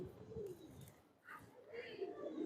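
Close pigeon cooing, low throaty rolling calls repeating through the short stretch, with a soft chirp mixed in.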